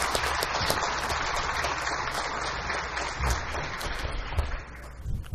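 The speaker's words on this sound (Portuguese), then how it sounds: "peço uma salva de palmas" An audience at a solemn session marking the 150th anniversary of Taquaritinga's founding claps in a steady, full round of applause that carries on without talk and fades slightly at the end.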